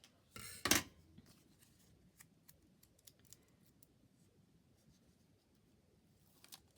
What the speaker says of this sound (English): Okay, I've got the bodgy scissors.